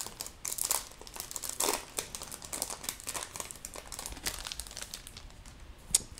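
A Yu-Gi-Oh card booster pack wrapper being opened, a quiet close run of crinkling and crackling foil with small tearing bursts in irregular rhythm, without speech.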